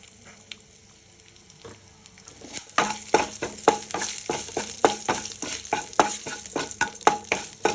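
Curry leaves and a single dried red chili are tempered in hot oil for sambar. A faint crackle swells into a loud, busy sizzle with irregular pops and stirring scrapes, and no voices are heard.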